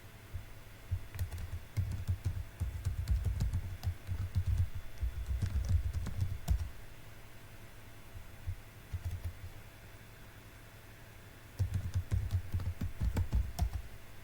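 Someone types on a computer keyboard to log into a school student account. Bursts of quick, close key clicks come in bunches with quiet pauses between them, with no talk.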